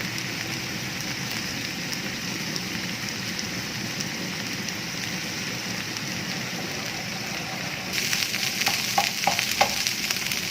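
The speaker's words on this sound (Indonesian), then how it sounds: "menumis bumbu halusnya di tungku yang lain" Blended spice paste sautéing in oil in a pot on a stove for Soto Bandung, a steady dense sizzle and crackle throughout, with a few louder spatters and stirring near the end.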